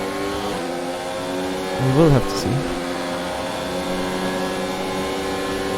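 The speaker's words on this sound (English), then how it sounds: "I hear an engine really quickly there" A racing car in an F1 racing video game at the French Grand Prix revs past quickly in a brief rising and falling whoosh, under steady commentary.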